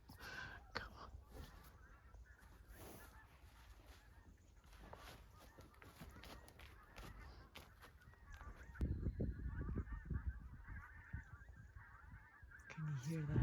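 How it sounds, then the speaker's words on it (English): Geese honk repeatedly as they fly south overhead on a farm, the calls steady and fairly distant with horse-handling activity and brief talk around them, growing louder toward the end. "It's the geese flying south."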